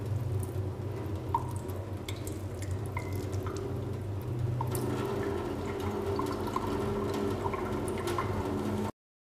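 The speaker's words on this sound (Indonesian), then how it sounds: "Setelah 5 menit kita cuci di bawah air mengalir" In a bacteriology lab, a stained microscope slide for acid-fast bacteria is rinsed under running tap water. The result is a faint, steady trickle and light splashing over a low background hum, with no speech.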